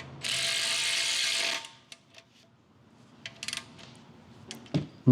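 A ratchet wrench tightens a 17 mm oil drain plug on a 2017–2019 Hyundai Ioniq, giving a rapid, steady run of clicks lasting over a second, then a few faint metallic taps.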